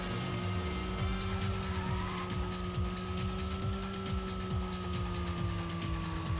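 A car fitted with new parts in the racing video game Racing Lagoon holds a steady engine drone with a sustained whine, loud and continuous, with no voices over it.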